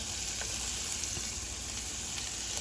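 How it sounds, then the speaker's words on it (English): Onion, green pepper, garlic and mushrooms sauté in a pan with a constant, even sizzle and hiss, close and steady, with a few faint stirring scrapes and no voices. "I just want to saute this stuff up"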